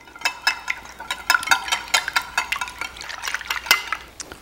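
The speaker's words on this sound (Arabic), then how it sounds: "راح نكسر البيض في اناء ثاني، وله راح اضيف الحليب وراح نخلطه كل زين" Eggs and milk whisked together in a bowl with a utensil, a rapid run of sharp clinks and taps against the sides with wet sloshing between, close up and without talk.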